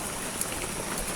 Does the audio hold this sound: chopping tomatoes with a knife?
no